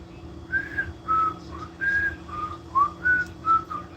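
A person whistles with their mouth to imitate a blown whistle, making a series of about eight short, close tonal toots in an uneven rhythm, alone with a faint low hum underneath.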